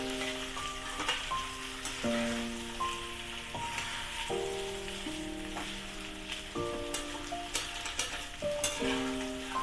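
Sweet potato slices frying in a pan give a continuous, even sizzle with light stirring, heard under background music.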